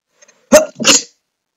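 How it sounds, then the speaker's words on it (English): A single loud, close sneeze in two bursts, a sharp intake-like onset followed by a longer explosive release, then silence. "Oh man, I sneezed everywhere."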